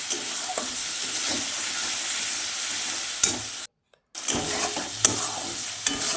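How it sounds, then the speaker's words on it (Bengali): Spice paste sizzles in oil in a pan for a potato curry, stirred with scraping strokes in a steady broadband frying hiss, broken by a brief silent gap midway, with no talking. "মশলাটা খুব ভালোভাবে ভাজা ভাজা হয়ে এসছে"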